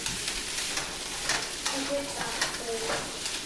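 Ground ginger being stirred into fried rice in a hot pan: a close, steady sizzle with scraping spatula strokes every second or so.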